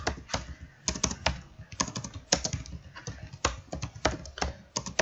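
Rapid, uneven keystrokes on a computer keyboard, with clusters of close clicks and short pauses, heard up close and alone.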